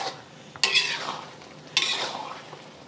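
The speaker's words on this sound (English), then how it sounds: "And give it a stir." A metal spoon clatters and scrapes through a pan of Chinese ground beef and zucchini sauce thickened with cornstarch slurry, two quick stirring strokes with a bright clink each, over a soft bubbling simmer.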